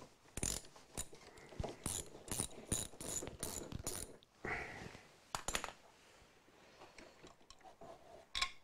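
Ratchet wrench working 12 mm bolts on a Honda Goldwing motorcycle, quick bursts of rapid metallic clicking in repeated strokes with short pauses, close but quiet, no talk.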